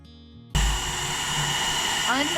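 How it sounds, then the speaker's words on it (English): After a brief hum, a hair dryer switches on and blows with a steady, loud whirring roar close by, heating glue. "So, Allie, if you could heat that up with the hairdryer, I would appreciate it."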